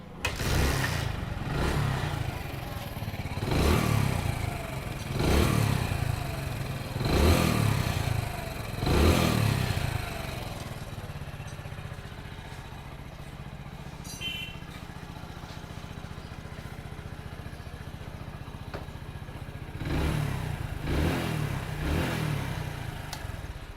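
A Hero Splendor motorcycle engine revs in several rising bursts, settles into a steady idle, then revs again near the end, close by and loud.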